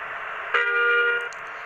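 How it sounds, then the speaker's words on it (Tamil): A steady, buzzy electronic bus horn in the video game Bus Simulator Indonesia blares once for under a second, flat and synthetic, with no talking. "எனக்கு இந்த ஹார்னை விட இந்த தேர்ட் ஹார்ன் தான் கைஸ் பிடிக்குமே"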